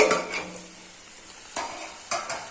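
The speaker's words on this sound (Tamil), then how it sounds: "இப்போ இது கூட கொஞ்சமாக தண்ணி ஊற்றி அந்த மசாலா எல்லாம் நல்லா கொதிக்கிறது மாதிரி செஞ்சிடலாம்." Goat brain masala with water and salt bubbling and sizzling in a pan, a soft continuous simmer broken by a few short bursts of stirring and scraping close up.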